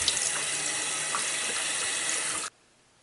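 Tap water running steadily into a pot holding chicken for homemade soup, a continuous splashing rush that stops abruptly.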